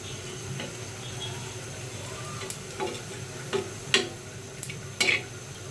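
Onions frying in a pan for a vegetarian papaya curry give a soft, steady sizzle with a few sharp clicks and scrapes of stirring scattered on top.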